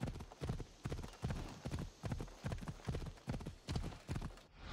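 A horse's hooves clip-clop at a steady trot in Assassin's Creed Odyssey, each beat close and distinct in an even rhythm, with no talk over it.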